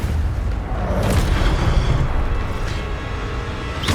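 A loud, rumbling Incendio fire-spell blast from Hogwarts Legacy, with a deep booming roar that swells and fades, followed by sharper bursts near the end.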